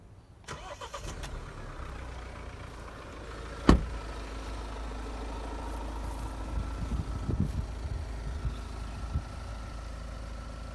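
A Mahindra Thar starts up with a sharp crank burst, then settles into a steady, moderately loud idle with a low rumble that swells slightly, heard up close with no talking.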